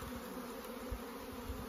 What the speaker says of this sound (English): We got as many bees as I can manage to get into the hive.